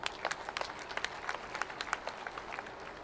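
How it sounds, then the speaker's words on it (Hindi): Applause from a large crowd at a big political rally held on a death anniversary in Hoshiarpur, welcoming a chief guest; scattered sharp claps merge into a steady, fairly faint wash across the whole stretch. "तालियों की गड़गड़ाहट से स्वागत"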